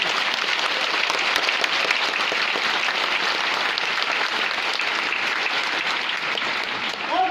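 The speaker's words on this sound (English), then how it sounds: "please join me in giving all our dear lawyers another big round of applause" An audience at a 2018 Philippine lawyers' oath-taking ceremony gives the new attorneys a big round of applause, a loud, continuous crowd clapping that holds steady across the whole stretch.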